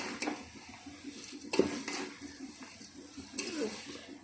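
Flattened rice (poha) stirred in a frying pan, giving soft scraping and scattered clinks of a spoon against the pan, with a few louder knocks, heard close up without talking.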